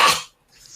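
A single short, sharp cough from someone choking on a mouthful of sand, loud and close, then a brief silence and a faint breath.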